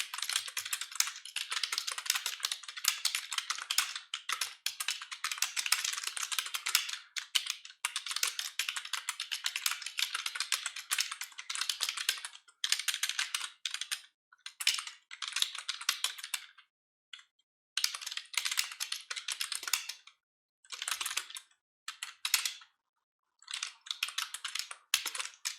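Steady computer keyboard typing, close and moderately loud, in fast continuous bursts for the first half, then breaking into shorter clusters of keystrokes separated by brief pauses; no talking.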